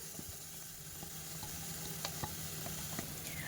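Spice paste hitting hot oil with cumin, oregano and chilli flakes in a pan, giving a steady close sizzle with light stirring taps and scrapes throughout.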